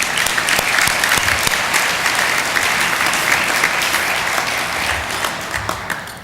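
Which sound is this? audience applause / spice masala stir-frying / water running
audience applause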